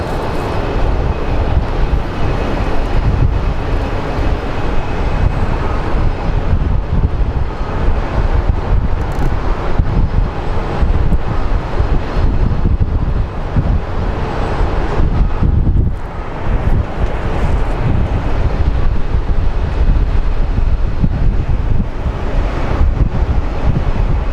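Strong, steady wind roars and buffets the microphone without a break at an airport, with heavy low rumbling gusts throughout and no voices.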